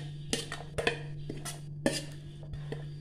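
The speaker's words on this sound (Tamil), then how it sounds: "இப்போ நம்ம வச்சுருக்கிறது எல்லாத்தையுமே போட்டு அப்படியே மிக்ஸ் பண்ணிடலாம்" A spoon clinks and scrapes in a bowl while vegetables are stirred into thick ragi dosa batter, with irregular sharp taps against the side over soft wet mixing and a low background hum.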